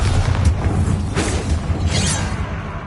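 Spell explosions from a Bombarda blasting spell in the video game Hogwarts Legacy: two broad, roaring blasts swell over a steady low rumble of combat noise, with no break in the din.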